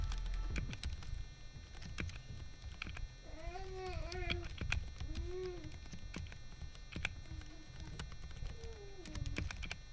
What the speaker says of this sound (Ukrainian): Ось тест клавіатури в стоці.